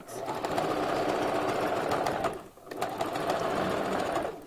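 A sewing machine stitching a raw Indian hair closure bob wig runs in a loud, steady close whir, pausing briefly midway before resuming.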